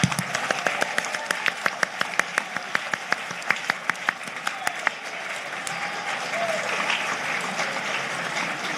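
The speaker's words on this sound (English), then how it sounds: "please join me once again in applauding all of our new Honor Society members" An auditorium audience applauds new Honor Society members at a National Honor Society induction ceremony, starting with sharp separate claps that merge into a steady, dense wash of clapping.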